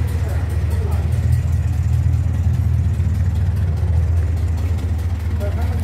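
Classic Zimmer Golden Spirit car engine idling with a steady low rumble, close and continuous, while people talk over it.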